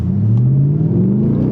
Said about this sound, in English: Really great exhaust note.